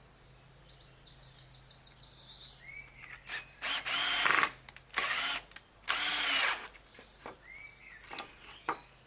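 A power drill drives screws into the wooden frame of a lobster and crab pot, three loud close bursts of whirring with short gaps between them, plus faint bird chirps and a low hum outdoors.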